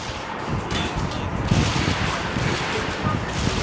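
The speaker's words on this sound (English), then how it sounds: "Stop throwing rockets!" Rockets exploding in the Spiderman Total Mayhem video game, a dense, continuous rumble of blasts and booms with no pauses.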